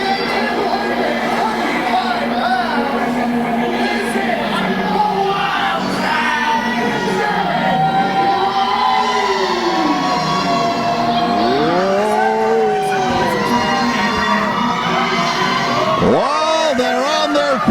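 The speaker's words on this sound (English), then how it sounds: "just listen up to this crowd when this guy breaks the curtain" A packed wrestling crowd roars for a wrestler's entrance at an anniversary show, a loud, continuous wall of cheering and shouting with rising whoops, while commentators talk over it.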